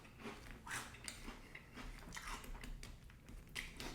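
Close, quiet crunching and chewing of Swiss Rolls chocolate cereal eaten dry, with irregular crisp bites repeating throughout and no talking.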